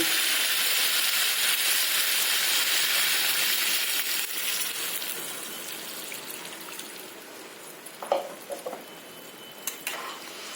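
Water poured into a frying rohu fish curry with zucchini and drumsticks, a loud rushing sizzle that gradually settles into softer bubbling, with a few clinks of a utensil against the pan near the end.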